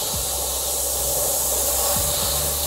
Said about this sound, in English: Same deal, bit of a light spray, and then I'll go heavier in certain areas.